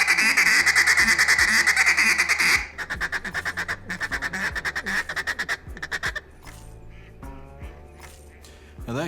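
A duck call blown aggressively, with long drawn-out runs of loud nasal quacks that fall into rapid, choppy chains of short notes and taper toward the end, close and alone with no talk.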